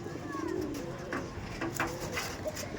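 Tournament-grade racing pigeons for sale cooing close by in soft, repeated throaty coos, with a steady murmur of background noise.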